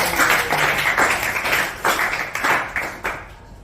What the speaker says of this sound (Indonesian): berikan tepuk tangan kepada temannya